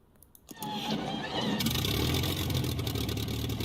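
A simulated Supermarine Spitfire Mk1a engine starts: a few quiet clicks, then a sudden catch into a loud, rough, steady roar that settles into a continuous running drone.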